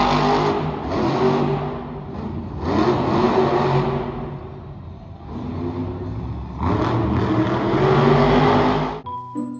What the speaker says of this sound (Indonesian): Di sini ada truk monster.